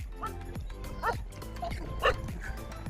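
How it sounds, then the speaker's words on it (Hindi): A dog barks repeatedly in quick, sharp yelps, about half a dozen in three seconds, mixed with whiny yips, fairly close, on a street in Darbhanga, India. "कुत्ता उसे आगे पीछे भौंक रहा है"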